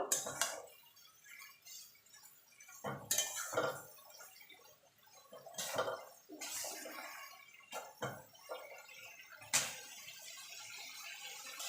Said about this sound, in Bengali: মিক্সির জারটা ধুয়ে জল দিয়ে দেবো করে মিশিয়ে নেব